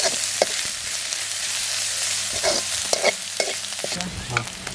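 Ginger and garlic frying with onions in a pan for a Jaffna-style mutton bone curry, sizzling steadily up close while a utensil stirs and scrapes in quick, uneven strokes, with no voices.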